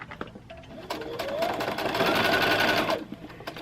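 A sewing machine stitches the edges of a fabric dust cover for an Accuquilt Studio die cutter, with a few single clicks first and then a steady close whirring run that stops after about two seconds.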